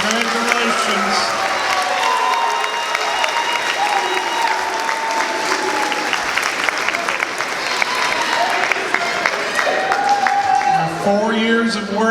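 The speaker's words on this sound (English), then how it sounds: "Let's give all of these students one more big round of applause." Crowd at a senior signing day applauds and cheers for students, sustained loud clapping throughout with voices and some cheering mixed in.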